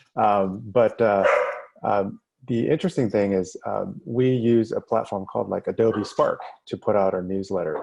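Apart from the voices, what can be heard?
dog barking in the background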